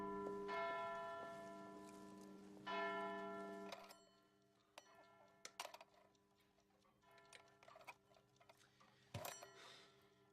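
A tower clock bell in a film scene rings several loud resonant strikes that ring out and decay, followed by scattered sharp mechanical ticks and clunks from the clock works.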